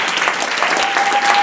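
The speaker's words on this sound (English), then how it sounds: "a round of applause for Becky" A brief burst of audience applause from a crowd at a social evening event, steady and fairly loud throughout.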